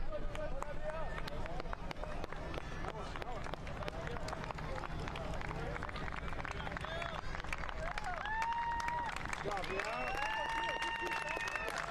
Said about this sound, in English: Large applause as Real Gill is relieved.